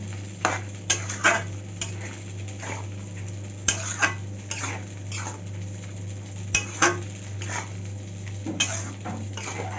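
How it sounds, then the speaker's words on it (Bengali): Cauliflower stem curry being stirred in a pan, a spoon scraping and clinking against the metal in irregular, fairly close strokes over a steady low hum, with no one speaking. "দিয়ে একটু ভালো করে নাড়িয়ে চাড়িয়ে নামিয়ে নেবো"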